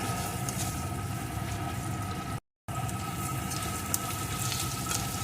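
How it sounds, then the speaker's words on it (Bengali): Chopped onion fries in a pan with a steady, moderate sizzle and faint bubbling, close and continuous apart from a brief gap. "পেঁয়াজ কুচিটা আমি কিন্তু খুব লাল লাল করে ভাজবো না একটু নাড়িয়ে নিয়েই"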